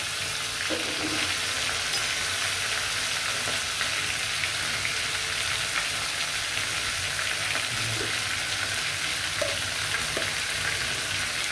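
Chicken pieces frying in a pan while a chicken roast is being made give a steady, dense sizzle with an occasional crackle and pop. The sound is close and constant, with no talking.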